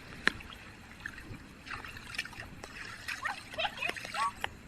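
Water kicked and splashed outdoors on a rainy day, with scattered light splatters and trickles of varying loudness, close by and mixed with faint background sounds.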